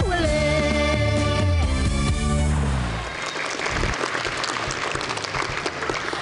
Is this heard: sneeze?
no